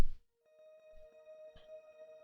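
A single guitar note rings out after a short pluck, swelling into a wide, washy Valhalla Supermassive reverb at 100% mix that hangs and shimmers with faint scrapes underneath.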